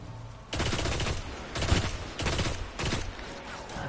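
Bursts of rapid automatic weapon fire from the video game Destiny, several loud sustained volleys separated by brief pauses, close and punchy.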